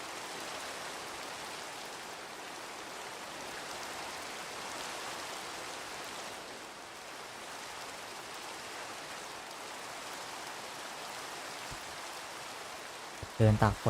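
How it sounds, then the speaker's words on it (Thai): Steady rain falling while a character walks in a video game, an even, hissing wash of drops that holds throughout, with a few brief knocks at the very end. "เดินตากฝน"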